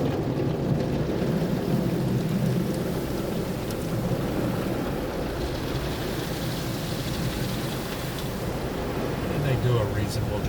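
Water jets from an automatic car wash rinse a car, heard from inside the vehicle as a loud, continuous, muffled rushing spray that drums against the body and windows.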